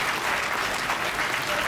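A brief burst of steady audience clapping from a crowd at a Hindi comedy poetry recital, dense and evenly sustained with no single claps standing out.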